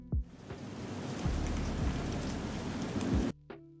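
Steady rain-and-storm sound effect of dense hiss with a few low rumbles, a continuous broadband wash running for several seconds before cutting off abruptly, followed by a brief tonal blip.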